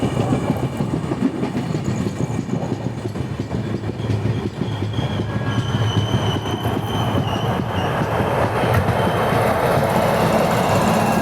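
A passenger express train runs on rails with a continuous loud rumble and rolling clatter from inside the carriage, faint squeals and tones riding over the steady noise.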